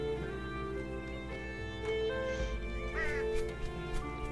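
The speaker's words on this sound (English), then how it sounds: "Also, bird." A bird caws once in the video game Unravel, a short wavering call rising over steady, layered game music.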